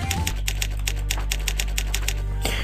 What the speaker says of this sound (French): ce n'est pas le bruit de mon clavier, c'est un bruit de machine à écrire